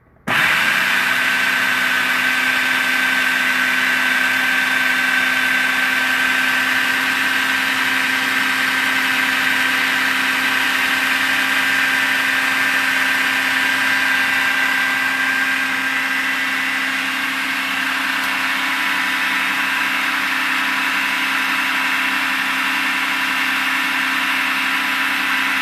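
A blender whirs through chocolate avocado pudding with a loud, steady motor whine that stays even and unbroken for about twenty-five seconds, with no talk.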